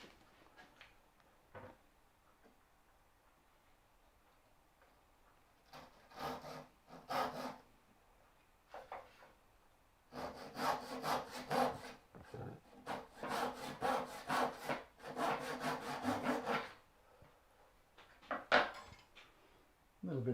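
A small hand saw cuts through wood for a trinket box lid in bursts of rapid back-and-forth rasping strokes, close up, with pauses between runs.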